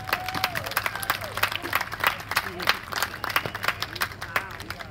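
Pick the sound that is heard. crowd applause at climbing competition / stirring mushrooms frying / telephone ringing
crowd applause at climbing competition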